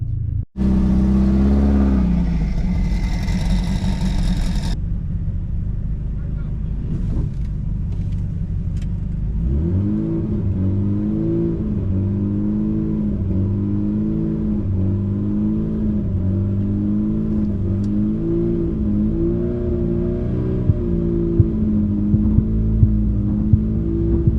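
A 1998 Subaru Forester launches on a quarter-mile drag strip, its engine revving hard and loud at first, then settling into a steady droning pull as it accelerates down the track, with no talking.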